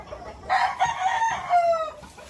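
A rooster crows once, loud and close, a single drawn-out call lasting over a second, with faint background noise before and after.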